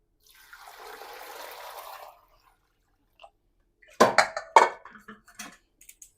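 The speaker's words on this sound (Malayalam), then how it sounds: "ഇനി അതിലേക്ക് വെള്ളം ഒഴിച്ചു കൊടുക്കാം." Water pours in a soft, steady stream for about two seconds into a large metal pot of washed tapioca, followed by a few sharp metallic clanks of the pot.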